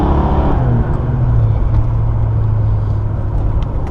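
A Lincoln Mark VII with about 240,000 miles on its original motor drives steadily, its engine drone and road rumble loud and continuous from inside the cabin.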